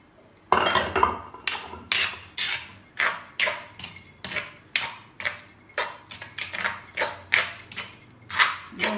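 A grinding stone pounds dry chilli and roselle leaf chutney in steady, repeated thumping strikes, each with a sharp knock, about two per second, close by and without speech.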